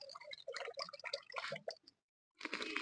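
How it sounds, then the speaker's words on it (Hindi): Soaked rice tipped into a pot of water for Peshawari-style kheer gives a close, soft patter of wet splashing and drips, then a brief silence before more liquid noise. "अब हम इसमें चावल डालेंगे।"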